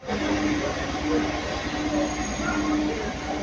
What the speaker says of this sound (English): There's that freight train.